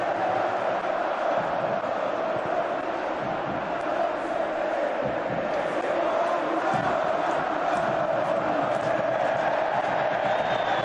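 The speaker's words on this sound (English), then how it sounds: "a magnificent crowd inside this stadium, making it a great occasion" A packed football stadium crowd at an Atletico Madrid versus Real Madrid cup match roars and chants as a constant, distant wall of noise, with some talk faintly over it.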